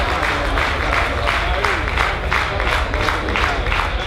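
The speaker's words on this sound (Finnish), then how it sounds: "katsotaan miten menee miehille tää taputtaminen" A party crowd on a cruise clapping for the men, steady rhythmic unison claps repeating about twice per second, loud and close, with voices and cheering mixed in underneath.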